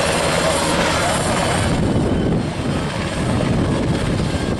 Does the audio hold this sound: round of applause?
no